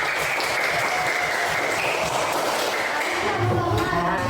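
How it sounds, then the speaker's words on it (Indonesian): Schoolchildren clap together in a classroom, sustained even applause that holds steady for several seconds with faint voices mixed in. "Tepuk tangan untuk kita semua."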